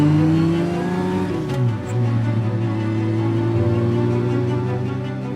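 A 1956 Aston Martin DBR1 racing car engine roars loudly and steadily at high revs, its pitch dipping and rising as it shifts and accelerates at a race, with no one talking.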